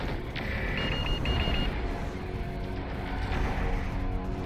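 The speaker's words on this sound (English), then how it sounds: "The beeping is missiles." Missile warning beeps in the MechWarrior 4 Vengeance video game, a short run of repeated electronic tones heard over a steady loud rumble of engine and combat noise.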